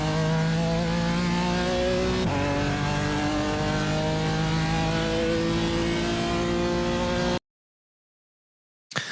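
BMW M4 GT4 race car in iRacing at Long Beach, its engine droning loud and steady as it accelerates under full power through rising gears, with a brief gear-change dip, then cutting to silence before a short final blip.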